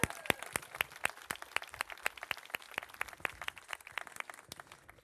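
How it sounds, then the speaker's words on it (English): An outdoor Fourth of July gathering in Almedalen, Sweden, gives the US Embassy staff applause. It sounds like a small, fairly faint crowd clapping in sharp, evenly spaced claps. "A round of applause for the U.S."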